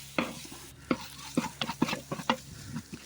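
Raw mango and ground paste sauté in oil in a pan, a spoon stirring in repeated scraping strokes over a soft sizzle, close and fairly quiet with no voices.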